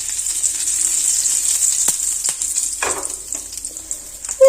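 Fennel seeds and chopped curry leaves sizzle steadily in hot oil for a samosa filling, a bright continuous crackle with a few sharp pops and a brief louder burst near the end, no voices.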